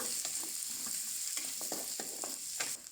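Garlic and shallots fry in a pan with a soft, steady sizzle, broken by repeated spatula scrapes and taps at an uneven pace, close but fairly quiet, with no speech.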